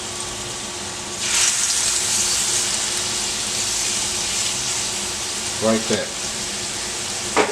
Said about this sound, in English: Put some olive oil and a little ghee butter in there. And we're just gonna fry this